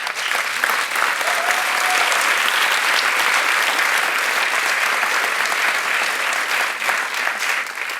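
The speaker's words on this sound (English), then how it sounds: "So give yourselves a round of applause" Steady applause from a large audience at a college convocation, dense and sustained throughout with no letup, filling the hall at an even loudness.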